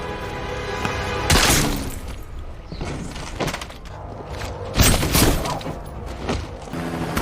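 Gunfire in a film action scene: loud bursts of shots and impacts with shattering debris, two heavy volleys standing out over a continuous rumbling battle soundtrack.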